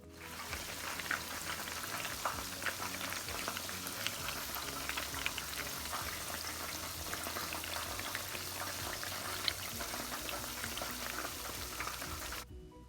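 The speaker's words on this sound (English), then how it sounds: "we're gonna double fry them" Korean chicken wings deep frying in hot oil, a dense continuous bubbling crackle close by, steady throughout with no talk, cutting off abruptly at the end.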